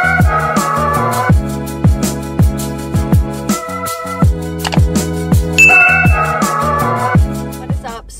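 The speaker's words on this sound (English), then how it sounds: "turn on the post notification bell so that way you get notified every time I upload a" A bright notification bell chimes several times in quick succession, loud and ringing clearly over a musical backing with a steady rhythmic pulse and no speech.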